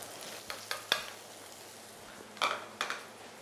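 Shiitake mushrooms and garlic stir-fried in a wok, a steady sizzle punctuated by sharp spatula scrapes and clanks against the metal at an irregular pace.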